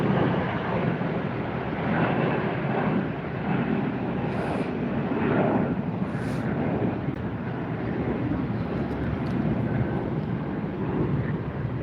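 A fixed-wing airliner climbs away after takeoff at Tampa airport, a broad, loud jet roar that stays steady with slight swells and some wind rumble, heard alone without speech.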